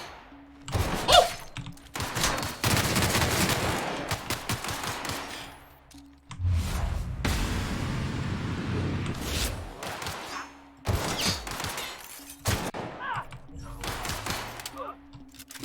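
Rapid gunfire and explosive bursts from The Outer Worlds video game sound in repeated loud clusters, with shouting and talking from players mixed between and over the shots.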